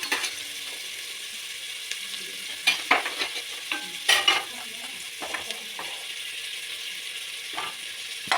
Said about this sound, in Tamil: அந்த நெய்யில் ஆனியன் வணங்குறப்ப நல்ல ஒரு ஸ்மெல் ஃப்ளேவர் வருதுங்க